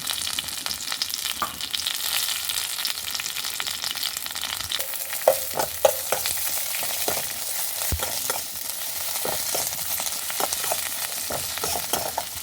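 Toor dal and neem leaves fry in oil in a pan, with a steady close sizzle throughout and occasional sharper pops and scraping stirs.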